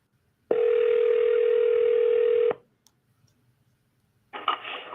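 Telephone dial tone during a live sales cold call, a steady loud tone lasting about two seconds, then a short silence before another burst of sound starts.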